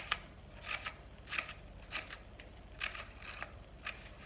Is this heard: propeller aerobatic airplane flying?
no